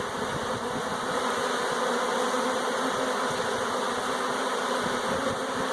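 Swarm of honey bees buzzing steadily and close, a dense continuous drone with no pauses and no talking.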